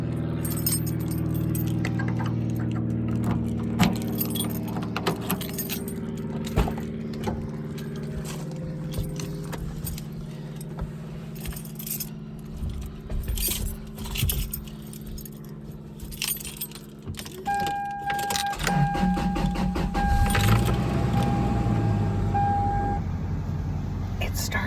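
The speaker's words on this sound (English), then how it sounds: "It started. So my truck has been dying because I don't drive it enough" Keys jangle up close, then a pickup truck engine cranks and catches after sitting unused for a while, its low rumble running steadily to the end with a short beep and some background voice.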